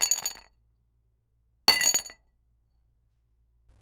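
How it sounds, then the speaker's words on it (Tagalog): A drinking glass on a table clinks and rattles in two short bursts separated by silence, with a faint third tap at the very end, close and crisp in an otherwise quiet room. "Nang biglang gumalaw ang baso sa lamesa."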